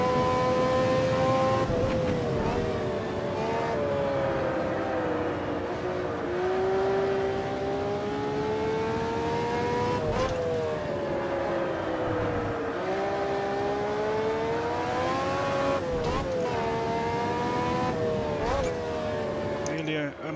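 A vintage Formula 1 car racing at Brands Hatch in a video game, its high-pitched engine whining loudly and continuously, rising and falling with gear shifts, while someone talks over it.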